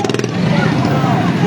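A motorcycle engine runs close by at an election rally in Shishgarh, starting with a pulsing idle and then settling into a steady, loud drone with crowd noise around it.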